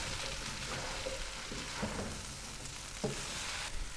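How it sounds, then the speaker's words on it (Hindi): Minced meat and cauliflower fry in a pan with a constant close sizzle, broken by a few scraping stirs of a utensil against the pan, and no talk. "गोभी को हमने यहाँ पर कीमे के साथ 10 मिनट तक भून लिया है।"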